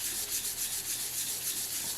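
A Mercedes W109 pinion bearing race is rubbed to take off high spots, a close, steady abrasive scrubbing in quick back-and-forth strokes, with no talking.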